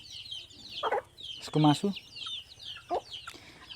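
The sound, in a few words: local chickens clucking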